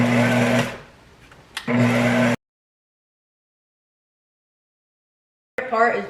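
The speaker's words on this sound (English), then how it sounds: "you're just gonna pulse it and mix those in" A food processor pulses cookie dough in two short loud bursts of motor whir, then cuts to silence before another brief burst at the end.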